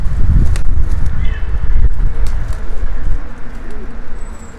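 Balkan pigeons coo nearby, with a burst of wing flutter at the start and soft outdoor rustling around them.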